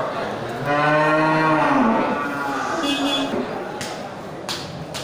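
A bull calf, a young male cow being sold for fattening, lets out one long, loud, drawn-out moo close by, with faint background noise and a few clicks afterward.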